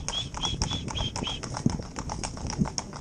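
A pair of Gypsy cob horses driven in tandem canter along, their hooves making a steady, overlapping clip-clop at close range, with birds chirping faintly in the background.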